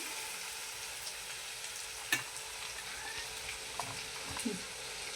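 Green chilies frying in oil with garlic and mustard seeds in a pan, a steady low sizzle with occasional small pops and a sharp utensil tap partway through.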